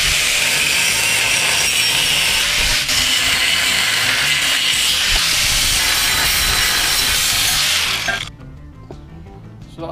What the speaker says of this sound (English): I've got a bit of box section which I'm going to chop up and reinforce and weld on the top there